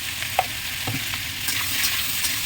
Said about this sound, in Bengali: ধীরে সুন্দর করে ভেজে নিচ্ছি